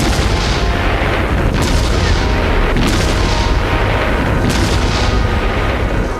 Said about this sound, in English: K5 still serve on all fronts, firing their 562-pound shells over 30 miles and packing a mighty punch